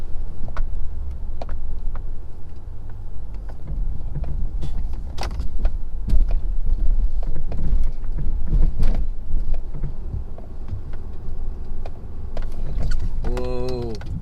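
A 2017 Ford F-250 diesel pickup pushes through deep snow in a heavy storm, its low engine rumble steady and close throughout, with some bumps and rattles along the way and a brief metallic whine near the end.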